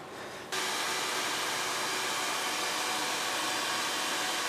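A vintage 1930 radiator core rolling machine, built in Sydney, presses copper as its clutch turns and the bottom die rises, giving a loud, steady mechanical roar that starts abruptly after a brief quieter moment.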